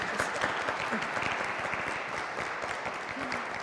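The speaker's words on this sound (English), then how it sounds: "let's give him a round of applause one more time" An audience at a cathedral talk on climate action strategies gives a round of applause, with dense, steady clapping from many hands throughout and no talking over it.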